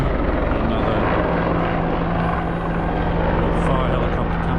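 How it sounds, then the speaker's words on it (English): A firefighting helicopter flies in close and loud, its rotor producing a constant heavy chopping drone for several seconds. A person talks faintly underneath. "fire helicopter coming back in here as well"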